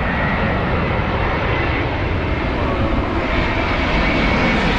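A Boeing Dreamliner jet airliner flies near Heathrow, a loud continuous engine roar that holds steady throughout, close overhead and alone without talk.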